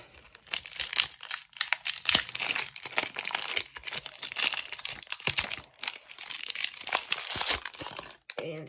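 A Pokémon card booster pack being torn open, with steady crinkling and tearing of foil wrapper up close over several seconds, continuous and fairly loud, with no talking.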